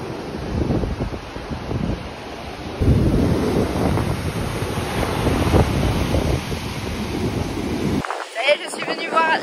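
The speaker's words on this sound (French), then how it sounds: "Je suis venue voir les vagues de près et c'est déjà la tempête." Stormy ocean surf crashes and roars continuously under strong wind buffeting the microphone, a day before a hurricane arrives, loud and close for several seconds before a brief voice is heard at the end.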